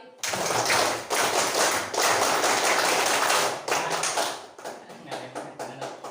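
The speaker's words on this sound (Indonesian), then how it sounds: "Tepuk pramuka 3 kali" Schoolchildren in a two-grade classroom clap the Indonesian scout clap three times, with several loud, dense rounds of massed clapping followed by a looser tail of individual claps fading out.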